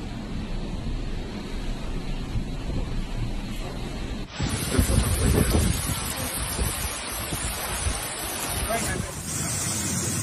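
Typhoon Chaba's winds and waves lash the Hong Kong coast: a dense, continuous roar of gusting wind and surf that swells in the middle, with a voice faintly under the noise.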